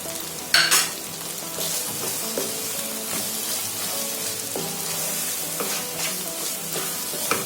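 Mutton roast with curry leaves and coriander is stirred in a pan: a continuous sizzle runs under repeated scraping and clinking strokes from the spoon, fairly close and moderately loud, with no talking.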